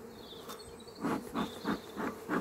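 Bees around an open beehive during a spring colony inspection, a soft insect buzz rising and falling in several close swells over a low background drone.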